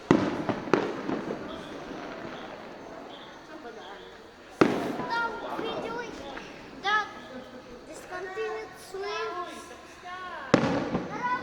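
Fireworks crackle and pop in bursts, with sharp bangs now and then, while people talk and chatter over them nearby.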